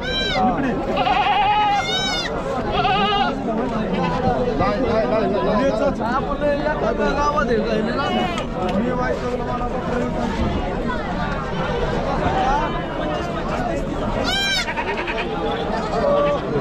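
Many Osmanabadi goats bleat continuously amid a dense crowd of chattering voices, a loud, busy goat and sheep market atmosphere in Chakan, Maharashtra.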